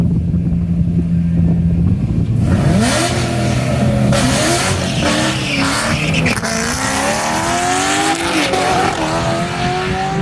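A 500-horsepower car makes a drag racing pass, with a loud, close engine roar that revs up through rising gear sweeps and tire squeal and carries on steadily for about ten seconds.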